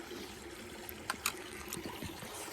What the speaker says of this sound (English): And this is Warm Spring Creek.